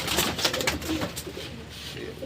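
A pigeon coos softly in short, low, throaty bursts over faint background noise.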